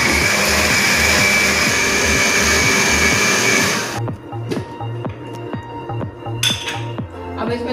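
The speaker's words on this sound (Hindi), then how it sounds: "अब हम इसमें 1 कप बलाई जो हमारे ने आपको दिखाई थी वो डालने जा रहे हैं और फिर इसको ग्राइंड करेंगे" A mixer grinder blends balai and milk for kulfi, a loud steady motor whir that cuts off midway, leaving clinks and knocks of the jar and utensils in a quieter room.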